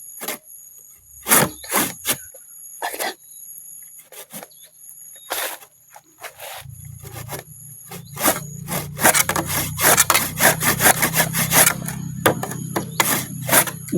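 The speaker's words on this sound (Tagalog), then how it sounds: "puputulin ko na ng lagari itong mga nakausling kahoy" A dulled hand saw rasps through protruding wood in uneven strokes, slow and sparse at first, then quickening into a fast, steady back-and-forth rhythm, close by with no talking.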